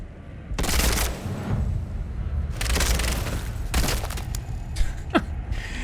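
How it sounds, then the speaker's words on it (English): Uzi submachine gun firing in a bleak survival horror game: three short, rapid bursts of automatic fire spaced a second or so apart, followed by a couple of single sharp thuds. "Should we try the Uzi?"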